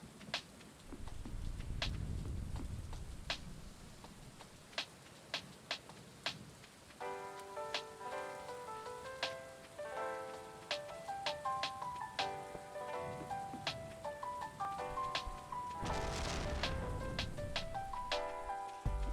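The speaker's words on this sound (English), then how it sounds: "It's raining." Steady pattering rain in the farming video game Stardew Valley, with a soft plinking melody of game music coming in partway through and sharp ticking drops scattered throughout.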